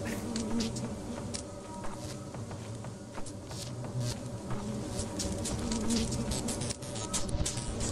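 Bees swarming in the video game Lethal Company, a dense close buzzing drone that holds steady throughout, with scattered clicks and taps over it and no speech.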